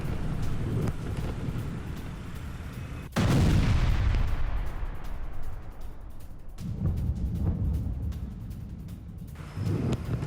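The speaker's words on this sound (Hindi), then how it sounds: "ये देखिए आईआरजीसी सैन्य बंकर पर बमबारी की गई है।" Bombing of an IRGC military bunker, with loud, rumbling blasts: a sharp, powerful explosion followed by long roaring decay, then further heavy booms and continuous low rumble across the scene.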